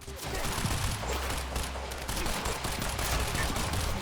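Rapid, sustained LMG gunfire from the video game Quantum Break, a dense unbroken burst of automatic fire lasting the whole stretch, loud and close.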